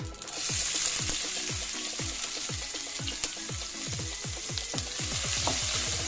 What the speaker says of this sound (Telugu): దీన్ని ఫ్రై అవ్వనిద్దాం.